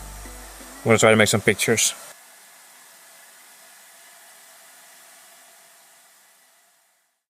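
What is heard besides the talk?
hair dryer blowing over aquarium water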